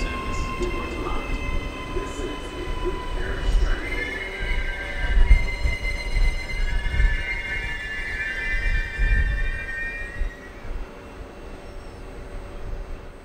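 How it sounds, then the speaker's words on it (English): An Auckland AM class electric train rumbles into a station with a low, rolling roar and high metallic squeals from the wheels, while a public announcement voice speaks over it. "The next train arriving at platform 1 is a Southern Line service to Auckland."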